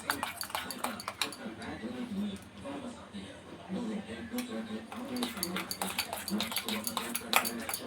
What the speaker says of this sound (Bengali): দিয়ে সমস্ত উপকরণগুলোকে ভালো করে মিশিয়ে নেব আমরা